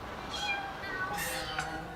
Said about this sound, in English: It is kitties, 100 or more, singing grateful praises to their wet nurse.